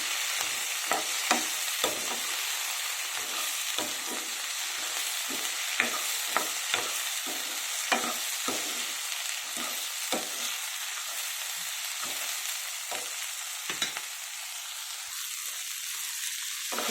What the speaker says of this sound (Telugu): టమాటాస్ కూడా వేసేస్తున్నాము టమాటాస్ కూడా మెత్తగా అయ్యేంత వరకు ఫ్రై చేసుకోవాలి